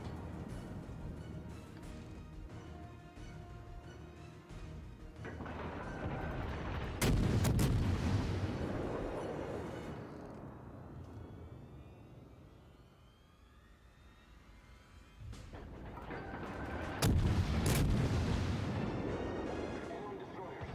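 Naval guns on a warship in World of Warships fire in two heavy booming salvos roughly ten seconds apart, each with a rolling roar that decays, over continuous engine and battle ambience with some talk.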